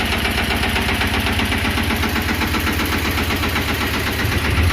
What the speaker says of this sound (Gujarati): ટ્રેક્ટર ચાલુ નહોતું કર્યું એટલે ચાલુ કરી દીધું